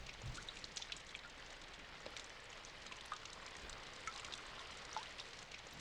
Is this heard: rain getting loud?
yes